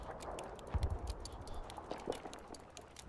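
Footsteps thud and shuffle in Battlefield V, a quick run of muffled steps with a few heavier impacts against low game ambience.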